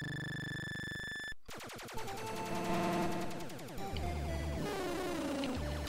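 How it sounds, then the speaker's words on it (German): Rapid-fire shots from the 1983 Konami arcade shooter Gyruss form fast, repeating electronic bursts layered over bright synthesized tones and bleeps, continuous and loud with no talking. "Das ist also Rapid Fire. Mehrere Schüsse gleichzeitig."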